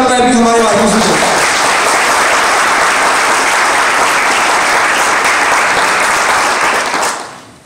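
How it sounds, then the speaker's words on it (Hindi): An audience at an event in Chhindwara, India, breaks into loud, sustained applause that holds steady before tapering off at the end; a voice speaks briefly at the start. "तो एक बार फिर से जोरदार ताली हमारे मार्क्यूज को।"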